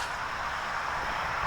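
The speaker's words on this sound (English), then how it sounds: "sorry about the traffic noise" A steady wash of road traffic near Daniel Lady Farm in Gettysburg rumbles and hisses in the background, moderate and continuous, with no voices.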